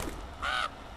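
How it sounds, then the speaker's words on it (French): A single crow caw in Boogeyman 3, one clear harsh call near the middle, moderately close over a quiet background. "Pourquoi les corbeaux s'envolent?"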